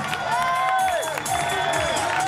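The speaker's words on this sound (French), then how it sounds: "Je vous demande quand même de l'applaudir très très fort notre ami Sylvie Messine" A crowd at a strongman competition cheers and shouts for a female bodybuilding champion competing as a contestant, with raised voices and whoops rising and falling close by over a busy background.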